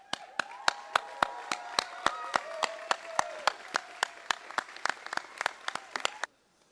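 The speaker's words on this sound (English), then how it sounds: "Please give your friends an applause." Applause from a graduation audience at a business school commencement, a sparse run of distinct, loud hand claps at a steady rhythm, some cheering voices underneath, stopping abruptly at the end.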